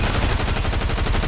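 Rapid, continuous gunfire from a gun in a video game, a loud, close stream of evenly spaced shots filling the whole short moment with no talking.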